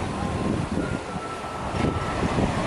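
Strong wind buffets the microphone at a beach at sunset, a steady loud roar with rumbling gusts and faint surf underneath, no voices.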